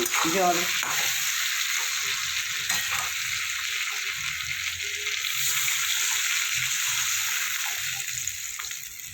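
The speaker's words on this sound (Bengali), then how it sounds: "আমগুলো আমার একটু ভাজা ভাজা হয়ে গেছে" Pieces of mango fry in a pan with salt for a sour fish dish, giving a continuous close sizzle with a few scraping stir sounds early on, fading slightly toward the end.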